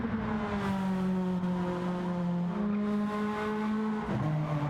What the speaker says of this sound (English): A lot of drifting through that left-hander.